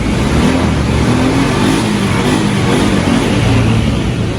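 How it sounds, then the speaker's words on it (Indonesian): A Honda Beat double-crank motorcycle engine idles steadily and close by after starting, a continuous smooth mid-low hum with no speech over it, recorded at a cheap used-motorbike seller's in a Jember village. "Oke, langsung hidup. Suara mesinnya seperti ini."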